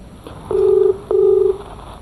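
A mobile phone places a call, giving two near, steady ringing beeps of about half a second each with a short gap between them.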